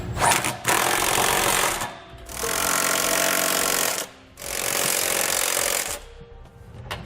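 Hitch hardware on a 2014 Dodge Durango being driven tight with a 19mm socket, heard as three long, loud, steady bursts of a buzzing power tool separated by short pauses.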